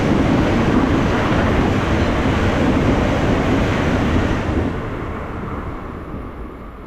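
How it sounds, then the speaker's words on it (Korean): A train passes through a station without stopping, rushing past with a broad, steady rumble and rattle, then fades gradually as it moves away. "3번으로 들어오는 열차는 우리 역을 통과하는 열차입니다"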